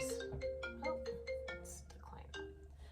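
A mobile phone ringtone plays a bright, melodic sequence of short electronic tones, fairly faint, with a voice speaking over it indoors.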